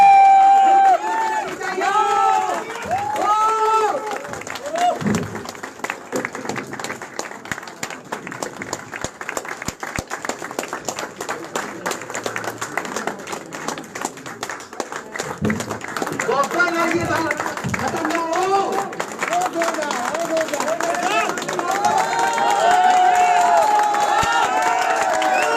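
An audience at a speech event claps and cheers in a dense, continuous wave that swells toward the end, with voices talking over it.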